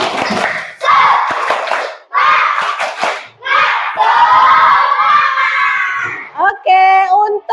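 A primary-school class in Indonesia performs a clapping cheer: loud, close bursts of children's shouting and rhythmic claps come in rough phrases and end with a few short sung notes.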